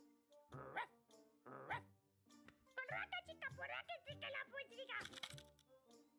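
Dog barks in the puzzle adventure game Lost in Play, a series of sharp, fairly close yaps repeated in a loose rhythm, interleaved with a child-like voice speaking.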